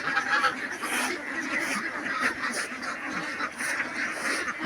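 Farm ducks quack in a noisy, continuous chorus close by, the calls overlapping in an irregular rhythm.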